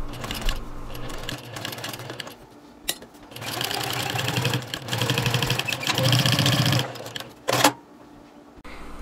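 A sewing machine stitches the lining of a fabric wallet in several close bursts of rapid mechanical whirring, separated by short pauses.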